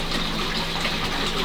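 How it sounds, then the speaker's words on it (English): Water gushes steadily from a pond bottom drain as filtration pumps push backflow through the system, a loud continuous rushing flow with no voices. "the water that's coming out now is actually a bit of backflow through the system"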